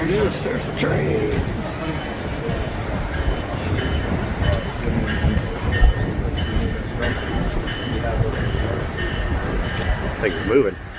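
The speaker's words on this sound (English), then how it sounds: "There it is. There's the train." A train rolls in with a continuous rumble and clattering wheels while people nearby talk and chatter over it at an outdoor gathering.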